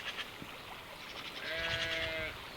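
A sheep bleats once on neighbouring farmland, a wavering drawn-out call at moderate distance over faint outdoor background noise, with no speech.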